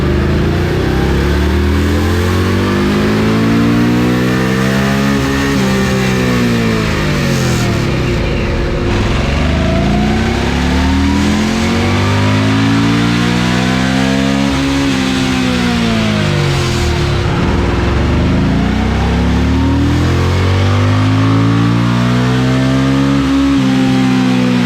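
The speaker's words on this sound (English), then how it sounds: "All right, guys, 3rd gear run. On the quest to hit the rev limiter." An Indian Scout motorcycle accelerates hard in third gear toward its rev limiter, the loud engine note climbing in pitch in repeated sweeping rises with heavy wind noise throughout.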